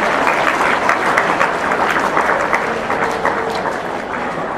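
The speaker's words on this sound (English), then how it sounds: "A huge round of applause for all of them." A school assembly audience applauds student achievers at a senior last assembly, with loud, dense clapping sustained evenly throughout.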